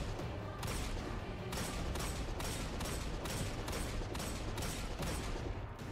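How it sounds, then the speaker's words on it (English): Repeated shots from the Ostringer or Aya's Luna hand cannon in Destiny 2, about ten loud evenly spaced blasts firing in a quick steady rhythm, alone with no talk. "That is either the Ostringer hand cannon or the Aya's Luna hand cannon."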